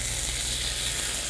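Pork neck steak sizzles on a hot iron serving plate, a dense, even crackle and hiss that holds steady and close throughout.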